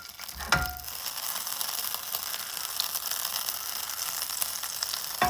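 Butter melting into oil in a preheated All-Clad D5 stainless pan, a bright continuous sizzle that starts with a clunk as it drops in, then holds steady and close.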